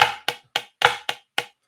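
Six crisp taps on a drum practice pad, flam accent rudiment, each with a grace-note flam, in an uneven accented rhythm, close and dry.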